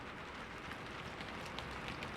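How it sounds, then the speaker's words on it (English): Steady rain falling on surfaces, a dense continuous hiss with soft scattered drop patter, even and unbroken throughout, with no voices. "let the sound of the rain wash away the noise of the city"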